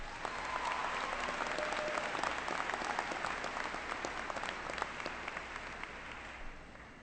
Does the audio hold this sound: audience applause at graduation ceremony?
yes